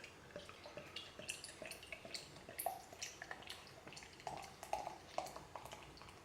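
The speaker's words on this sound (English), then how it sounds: "Let's see how it pours." King Goblin Imperial Ruby beer poured into a glass, quiet liquid splashing and trickling with small drips and fizzy pings, close and faint with no talking.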